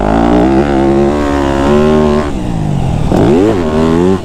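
Loud, close 2025 Yamaha YZ250F dirt bike engine held in third gear around a dry-dirt mini supercross track, a steady high droning whine that rises and falls with throttle, dipping briefly and surging again.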